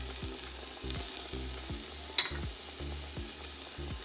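Mixed fried rice stir-frying in a pan as seasoning goes in, a steady sizzle under a repeating hum that swells and drops about every half second, plus one sharp clink near the middle, with no talking.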